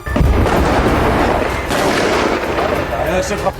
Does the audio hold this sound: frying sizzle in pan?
no